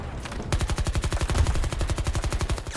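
A rapid-firing gun in the video game Battlefield 2042 opens up after half a second and keeps pounding out an unbroken, evenly paced string of loud, nearby shots until the end.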